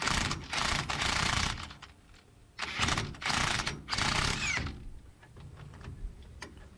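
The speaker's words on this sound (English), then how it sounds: "You can just use the wrench, the open end, and loosen up the nut" An open-end wrench loosens a nut on the suspension of a 2020 RAM 1500 pickup during a 6-inch lift kit install, heard as close, bursty metallic ratcheting and clicking in several short runs with brief pauses between them.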